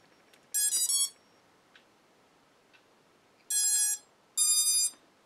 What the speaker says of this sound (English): ESC's beeped fine